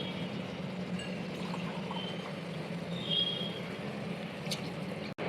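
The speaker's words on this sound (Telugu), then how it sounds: "వాటర్ వేసుకుంటాం." Water poured from glasses into a cooking pot of fried mutton for a village-style mutton curry, a steady continuous pouring rush close by with no talk.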